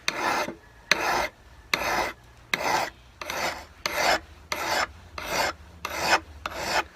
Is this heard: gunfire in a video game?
no